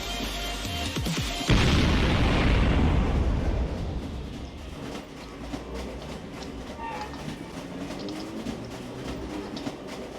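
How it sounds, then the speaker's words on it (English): A cargo train in a Roblox game rumbles past with a loud, sustained low roar that starts abruptly, then eases into a steady clattering drone over roughly ten seconds. "Okay, cargo train is already here."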